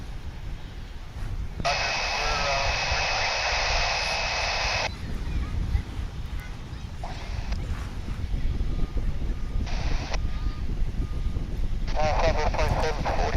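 A Volaris jet airliner's engines roar steadily at DFW International Airport, a continuous broad rumble with a distant whine, while radio chatter and voices come and go over it.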